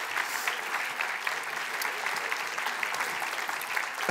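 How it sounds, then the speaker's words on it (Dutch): A talk-show studio audience gives sustained applause, a dense, even clatter of many hands clapping. It holds steady for several seconds with a faint voice near the end. "Graag een groot applaus voor Martijn."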